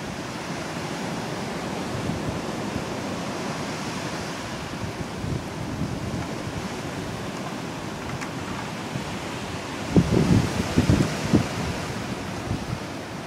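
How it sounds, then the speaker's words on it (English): Strong outdoor wind buffets the microphone in a steady, roaring rush at a wild deer viewing spot, with a louder gust swelling near the end; no talking. "We have a lot of wind today, don't we?"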